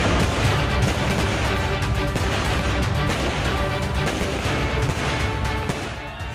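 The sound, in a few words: fireworks celebrating Pakistan victory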